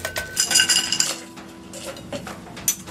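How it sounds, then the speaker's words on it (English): Ice clinks and clatters into a cocktail glass for a pecan pie cocktail mixed with smoked orange bitters, a busy burst of bright knocks early on, then a few sparser taps and one last clink near the end, with no talking. "Now we're gonna take that, throw our ice in there."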